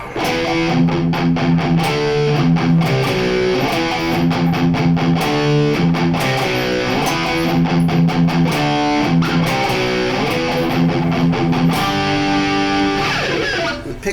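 Distorted electric guitar chugs through a heavy metal riff, dense rhythmic palm-muted notes and sustained chords played loud and continuous with no talking.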